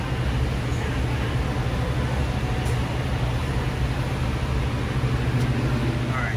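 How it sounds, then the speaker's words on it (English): Compressor of an R290 make-up table running with a steady low hum and constant mechanical drone, close and even throughout, with no condenser fan motor turning and no voices. "We got compressor, no condenser fan motor."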